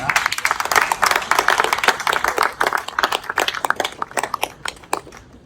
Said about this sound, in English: which I'm sure you'll all agree is worth a round of applause.